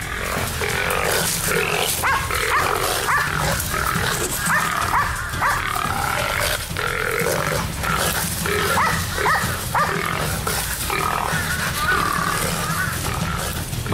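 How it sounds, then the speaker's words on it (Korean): Loud, chaotic animal noise on Hallasan, Jeju: repeated high squeals from wild boar mixed with Jeju dogs barking close by as they surround the boar, continuous and frantic throughout. "이때 들려오는 멧돼지 소리."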